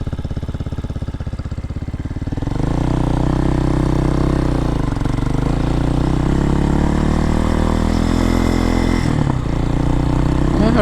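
A 2023 Hawk X 250 motorcycle engine idles steadily and close, a low, even thrum with a faint tremble that swells from about two seconds on and holds constant, with no talk over it.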